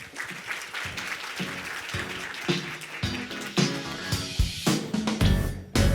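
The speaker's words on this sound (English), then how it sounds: "So let us start this special performance with a big round of applause." Applause from an audience at the opening of a talks event rises and falls unevenly, with scattered loud claps and some background voices.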